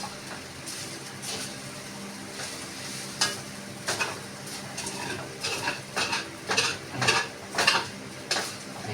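Sinangag, garlic fried rice, stir-fried in used oil left from frying tuyo, sizzling softly under a string of sharp spatula scrapes and clanks that grow quicker and louder toward the end.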